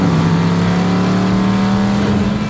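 A classic car with a 327 four-barrel V8 runs loud and close, its deep steady engine note droning throughout with a strong low hum and no voices.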